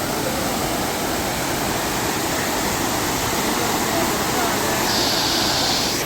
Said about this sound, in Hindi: ये एक मैन मेड वाटरफॉल है जिसमें सीढ़ियाँ बनाई गई हैं यहाँ पे